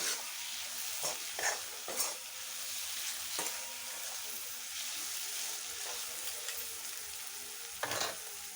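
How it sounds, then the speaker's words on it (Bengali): Turmeric and spices are stirred and fried in oil, giving a steady, soft sizzle with a few louder scraping strokes of the spoon in the pan. The sound is close but fairly quiet, with no voices. "এক চামচ হলুদ ভালো করে নাড়াচাড়া করে নিতে হবে যতক্ষণ না মশলা থেকে তেল ছেড়ে দিচ্ছে"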